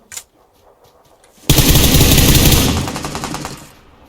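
Rapid automatic Skorpion fire from PUBG Lite rattles out in a loud, dense burst lasting a couple of seconds before tapering off, preceded by a single sharp click.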